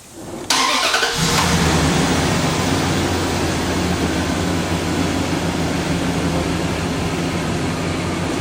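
A car engine starts after the blower motor wiring is reconnected: a short crank, then the engine catches and settles into a steady, loud idle with blower noise, and no talking.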